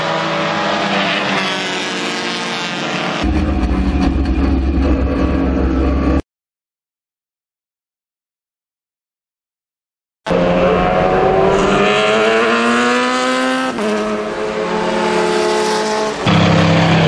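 Austin-Healey Sprite sports cars race on a track, their engines roaring loudly and shifting pitch as they pass, with a few seconds of complete silence in the middle before the racing noise resumes.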